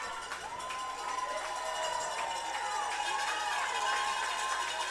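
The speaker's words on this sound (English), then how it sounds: "the crowd here at Massich Place Stadium starts to get up on their feet and cheer their Kodiaks on to victory" Stadium crowd at Masich Place Stadium cheering on the Prince George Kodiaks in a football game, a sustained mass of shouts and whoops with scattered whistles and applause, steady and moderately distant, with some talk mixed in.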